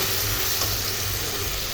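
Steady, close sizzling of ground spice paste frying in hot oil, a continuous crackling hiss with no talking.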